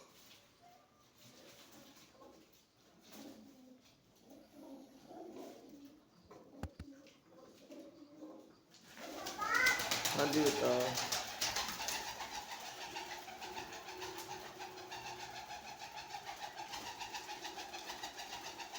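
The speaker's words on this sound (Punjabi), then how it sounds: "ਬਿਲਕੁਲ ਕਾਲੇ ਕਬੂਤਰ" Black pigeons coo and flutter close by, their calls rising over a steady mechanical hum, after a stretch of quiet talk.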